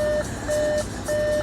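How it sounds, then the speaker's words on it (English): An Audi Q5 Quattro gives three evenly spaced electronic warning beeps inside the cabin, each a short steady tone over a faint background hum. "And why are we beeping?"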